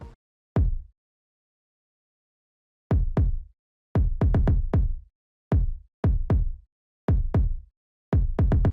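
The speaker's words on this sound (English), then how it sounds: "the kick that I used is called a fat kick" A boosted fat kick drum following the 808s in a glitchcore beat thumps in deep, punchy hits, some single and some in quick doubles, loud and alone.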